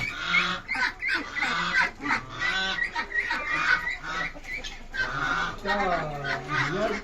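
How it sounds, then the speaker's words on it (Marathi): A large turkey of about eight or nine kilograms calls repeatedly with honking, throaty fowl sounds on a poultry farm. The calls overlap and carry on steadily, with some talking in the background. "टर्की."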